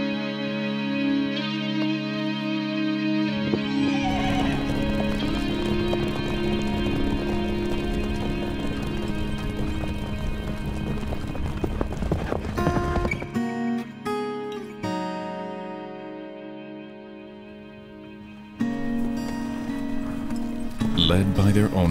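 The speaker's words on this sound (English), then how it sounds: "Led by their owners to the riverside, horses are ordered to step into the rivers." Horses are led by their owners to a riverside on the high plateau during a grand gathering, with hooves clip-clopping and occasional neighing under a narrator's voice and a musical score.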